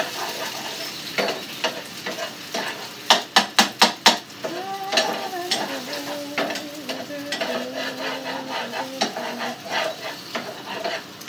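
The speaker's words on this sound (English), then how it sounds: "I'm gonna stir my eggies" A utensil stirs and scrapes eggs frying in a pan, with a bright sizzle and several quick clanks against the pan, close and clear.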